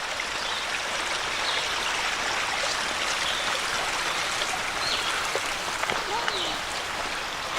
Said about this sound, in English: All right, another stream crossing